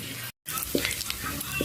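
Ground pork or beef sautéed in a pan for a Filipino vegetable dish with patola, giving a steady close sizzle with stirring scrapes, briefly cutting out near the start.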